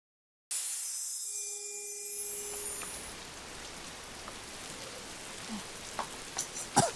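Steady rain patters down on a sunny day, with a brief tonal hum near the start and a few louder drips landing close by toward the end.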